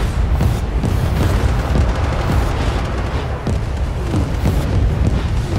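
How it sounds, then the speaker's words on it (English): Friendly airstrike explosions in the World War 3 video game at the Polyarny warzone, a dense, continuous barrage of loud, overlapping booms and blasts rumbling without pause. "Friendly airstrike incoming."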